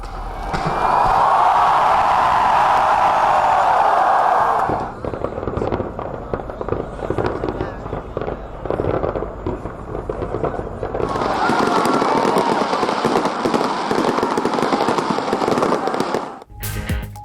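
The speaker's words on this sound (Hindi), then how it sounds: "नए साल के आगाज पर शानदार आतिशबाजी" Dense, continuous crackling and booming of New Year fireworks at the Burj Khalifa in the UAE, going off in rapid succession, loud and sustained with a roaring backdrop.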